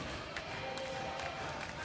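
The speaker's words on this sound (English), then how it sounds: "Making a lot of noise as they cheer on their team." Türkiye basketball fans cheer in an arena during a men's European Championship game against Poland. The crowd noise is a steady, dense roar with no breaks, under a commentator's voice.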